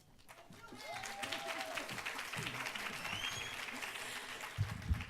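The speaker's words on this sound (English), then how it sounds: "So another round of applause, please, for Alice Begg." An audience at a 50th anniversary event for a Chicana(o) and Latina(o) Studies department breaks into sustained applause that swells and holds, with scattered cheers over the clapping.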